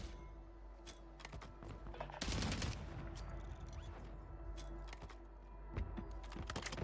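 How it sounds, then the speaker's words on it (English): A grenade blast in the Warzone battle royale game, a sharp booming burst about two seconds in amid scattered rapid gunfire and clattering game effects, with a second thump near the end. "That was an excellent nade."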